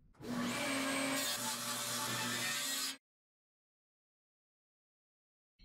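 Power saw ripping a strip of wood lengthwise in half, a loud steady whine with a humming tone for about three seconds that then cuts off abruptly into silence.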